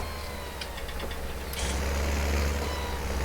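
A heavy tractor engine in Farming Simulator 19 rumbles steadily, then swells louder with a rushing, hissing whoosh as the turbo spools and releases when the accelerator is lifted.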